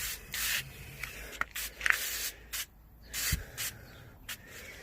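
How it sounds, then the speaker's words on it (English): Several bursts of pressurized spray from a garden sprayer treating plants hiss in quick succession, close by, with short pauses between squirts and light handling noise. "And my petunias, give them a quick spray."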